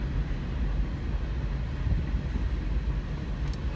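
A train passing nearby produces a continuous low rumble and rolling roar at a steady, moderate level, with no voices.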